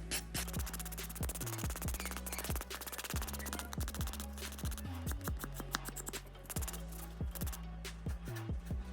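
A hard grit file scrapes across the top coat of a nail enhancement in quick, repeated strokes, a close, faint, rhythmic rasping that continues steadily throughout.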